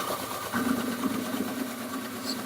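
A shaved ice machine grinds steadily through a block of ice, a continuous close whirring buzz with a slight rise in intensity partway through, and no talking.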